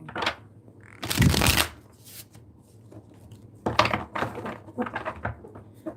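Tarot cards are shuffled close by in several quick riffling bursts separated by pauses, with soft taps and handling sounds between them and a voice speaking quietly at times.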